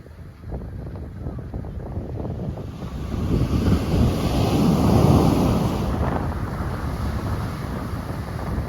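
Ocean waves wash onto a Hawaii beach in a close, rolling rush that builds toward the middle and then eases, with wind buffeting the microphone throughout.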